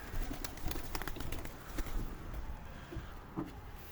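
A female Arab pigeon coos in soft, low, throaty bursts at close range, with a few faint clicks and rustles around it and no speech.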